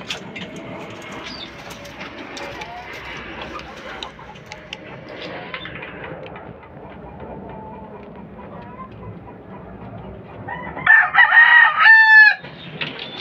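Hens clucking quietly in the background, then a loud fighting-cock rooster crow near the end, close and brief before cutting off.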